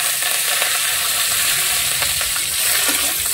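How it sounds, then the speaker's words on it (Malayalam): Wet curry leaves sputtering in hot oil while clam fry is cooked, a loud steady sizzle scattered with sharp crackling pops. "ഇതിലേക്ക് നമ്മൾ കറിവേപ്പില ഇട്ട് കൊടുക്കുകയാണ്"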